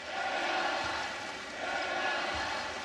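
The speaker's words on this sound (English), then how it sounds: "It's a mini Athens crowd." Greek fans cheering and roaring in a basketball arena at a Greece versus Ukraine EuroBasket 2022 game, a steady and loud crowd swell that holds across the whole moment.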